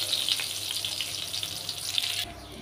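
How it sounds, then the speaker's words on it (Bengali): Eggplant pieces frying in oil over a high gas flame, a bright steady hiss with scattered spits and crackles that drops off sharply near the end. "এই সময় গ্যাসের ফ্লেমটা আমি বাড়িয়েই বেগুনগুলো ভাজবো।"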